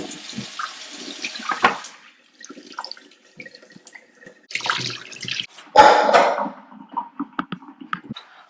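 Basmati rice is rinsed under running tap water in a pot liner, with several separate bursts of splashing flow broken by short quiet gaps.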